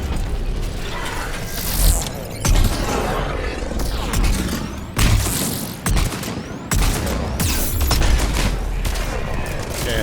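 Sniper rifle fire in Mass Effect 3 amid a dense, mechanical game battle, with several sharp shot bursts rising above a constant clattering of gunfire and machinery; no one speaks.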